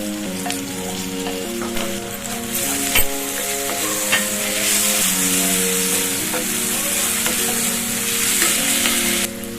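Ground chili, garlic and coriander paste with extra garlic frying in a pan for a fenugreek and dried shrimp bhaji, a steady close sizzle with occasional stirring scrapes and clinks, while faint background music plays without speech.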